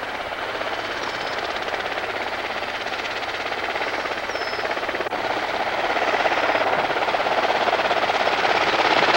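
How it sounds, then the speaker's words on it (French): Sikorsky S-61L helicopter carrying a 2,700–3,600 kg pylon mast in 1977, a loud continuous broadband rotor and turbine roar that stays steady and grows slightly louder toward the end. "L'hélicoptère utilisé pour le transport des mâts, dont le poids varie entre 2700 et 3600 kg, est un Sikorsky 61L"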